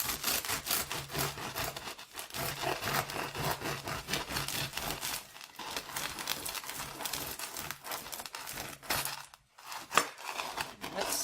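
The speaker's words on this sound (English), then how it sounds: "we have some cooled off baguettes here, and I'm going to go ahead and cut one" Bread knife sawing through a cooled sourdough baguette, a steady run of close, crackly rasping crust strokes with brief pauses between cuts.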